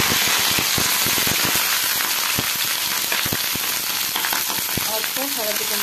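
Cauliflower pieces fry in hot oil in a kadai with a loud, dense, continuous sizzle, dotted with sharp pops and crackles throughout.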